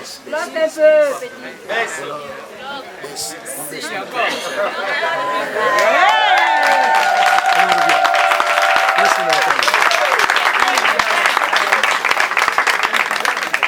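Guests at a customary Gabonese wedding break into applause and lively chatter; voices and calls come first, then clapping swells and continues steadily, mixed with crowd hubbub.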